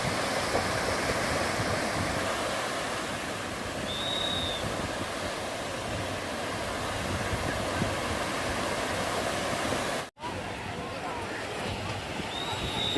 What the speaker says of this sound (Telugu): సముద్రంలో అలలు చూడండి ఎలా వస్తున్నాయో.